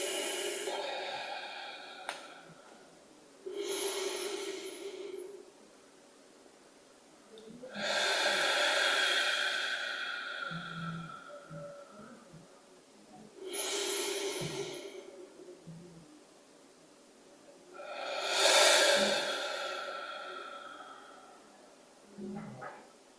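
Slow, deliberate breaths drawn in through the nose and released through the mouth during a guided sound healing practice, several long rhythmic cycles audible up close in a quiet room.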